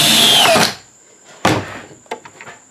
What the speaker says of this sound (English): line it up, clamp it down, and then run the screw in.